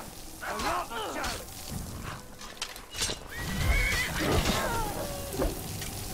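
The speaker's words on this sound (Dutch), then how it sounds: "laat ik maar heel even van mijn paard afgaan." Horse neighs and clip-clopping hooves from the video game Skyrim, with a couple of whinnies rising over muffled trotting and game ambience, no voices heard.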